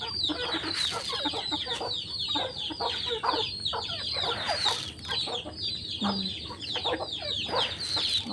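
A flock of chickens clucks and chatters continuously up close, many overlapping calls forming a busy, steady din with no pauses.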